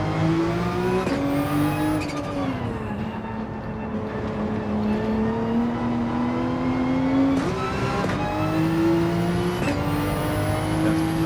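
A race car engine in a racing video game screams at high revs, climbing in pitch through each gear, dropping briefly at every shift and climbing again, loud and continuous with no talk over it.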